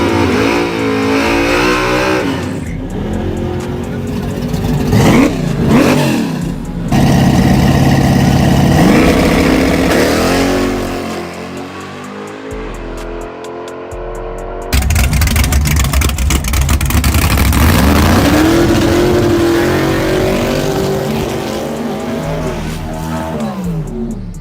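A 1967 Chevy Camaro with a procharged, tuned small-block and an irregular-sounding motor revs hard in loud, repeated bursts, the pitch sweeping up and down between each throttle blip and a rough idle.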